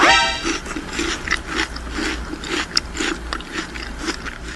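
Close, wet chewing of rice mixed with sweet and spicy century tuna, a steady run of soft bites and mouth noises with occasional crunchy clicks over a low background hum.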